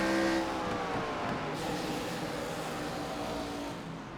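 An ARCA Series stock race car engine roars steadily at Kern, a loud, continuous high-revving drone with no speech over it.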